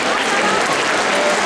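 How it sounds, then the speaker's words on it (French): A cosplay contest audience at a convention applauds with a dense, loud, continuous wash of clapping and crowd noise that is brief and steady throughout. "Avec un tonnerre d'applaudissements, s'il vous plaît."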